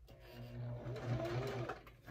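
A sewing machine runs in one short, steady burst, stitching down the side of a simple fabric bag with a fast mechanical whir up close.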